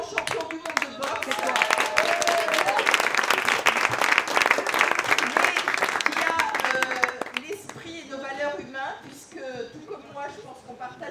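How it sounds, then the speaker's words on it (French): An audience applauds a boxing world champion at a live event, a dense, sustained burst of clapping that fills the room before thinning out toward the end, with voices rising over the fading claps. "On peut également applaudir Aurélien Duarte,"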